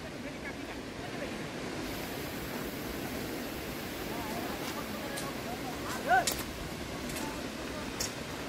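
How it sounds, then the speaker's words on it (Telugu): A waterfall at Mankdiyan, its water dropping from about 100 metres, gives a steady broadband rush of falling water, with a brief louder burst near the end. "మాంక్దియాన్ వాటర్ ఫాల్"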